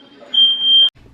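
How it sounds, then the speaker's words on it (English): A smoke detector alarm in a home living room gives one piercing high-pitched beep lasting about half a second, close and loud, then cuts off abruptly. "that smoke detector alarm was really getting on my nerves"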